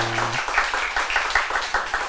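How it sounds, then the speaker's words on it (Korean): Congregation applauding at a Korean church ordination thanksgiving service, a dense patter of many hands clapping at steady volume for a couple of seconds with a brief low hum at the start. "뒤에 분들은 박수하시기 바랍니다"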